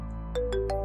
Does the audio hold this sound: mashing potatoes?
no